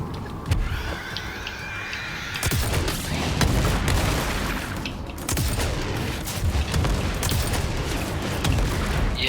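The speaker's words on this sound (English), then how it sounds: "Yep, I'm just shooting missiles." An infinite-ammo rocket launcher in the game Control fires missiles in quick succession, each launch a loud whooshing blast that merges into a dense, continuous barrage of booms.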